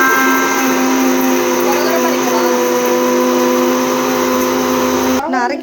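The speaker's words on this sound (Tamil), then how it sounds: "சின்ன வெங்காயம், கொஞ்சம் புதினா, அது கூட குருமிளகு, பட்டை, கிராம்பு, கொஞ்சம் சோம்பு போட்டு அரைச்சிக்கணும்" A mixer grinder runs steadily at full speed, loudly grinding shallots, mint, pepper, cinnamon, cloves and fennel for a chicken gravy, its constant whine cutting off abruptly near the end.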